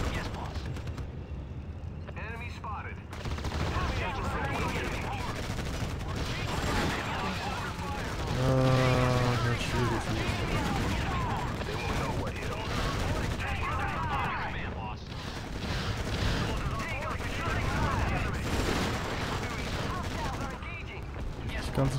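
Dense, continuous gunfire and explosions rage in the Act of War strategy game, a loud sustained battle din of overlapping shots and blasts, with someone talking over it throughout.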